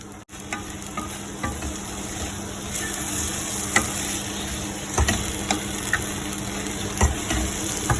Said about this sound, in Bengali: এখন আমি এখানে দিয়ে দিব আলুটাকে